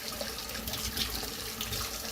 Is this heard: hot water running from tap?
yes